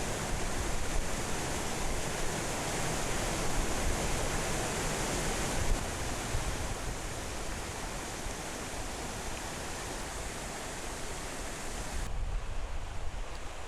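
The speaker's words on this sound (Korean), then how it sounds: "강 전체가 폭포를 이루는 유일한 곳으로 일명 한국의 나야가라 폭포라고도 불린다" A broad waterfall spanning an entire river about three metres high, heard as a continuous dense roar of falling water, steady and enveloping, with no voices.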